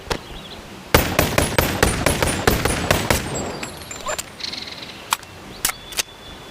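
Pistol gunshots ring out in the VR game Bonelab: a rapid burst of sharp, loud cracks, then a few scattered single shots with metallic clinks between them, with no voices.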